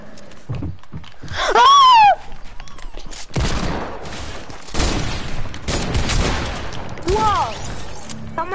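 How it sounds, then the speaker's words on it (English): A multiplayer shooter match with loud bursts of gunfire, sustained rattling volleys for several seconds, mixed with a squealing whoosh and other game effects. "Someone just sniped me."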